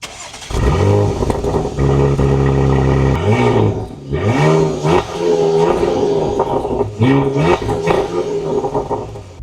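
A Porsche Macan engine revs hard in repeated loud bursts, each rising then falling back to a throaty idle, close by with no talk.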